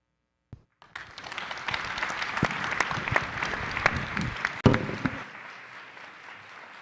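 Audience at a conference plenary on land, climate and conservation bursts into steady applause after a couple of lone claps, sustaining a dense, moderately loud round for several seconds before stopping abruptly.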